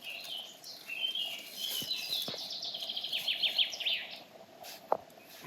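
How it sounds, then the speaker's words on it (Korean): Birds chirp and trill in a quiet national park, with a run of short repeated tweets in the middle and a single sharp call near the end, faint and somewhat distant over soft ambient hiss. "와, 여러분, 새소리가."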